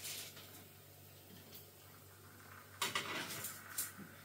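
Shop-bought oven chips being dished out onto a plate, with soft scrapes and light clinks of a utensil on crockery, a few sharper knocks clustered near the end, close and fairly quiet.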